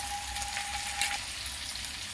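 Potato and pea curry frying in a pan as spice masala goes in over low gas, a soft steady sizzle with faint stirring, quiet and unbroken, with a thin tone at the start.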